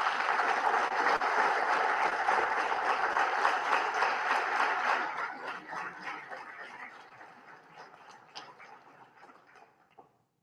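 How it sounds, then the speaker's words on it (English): Sustained applause from a large audience, dense and even at first, then thinning and fading out toward the end. "can we just give her a round of applause?"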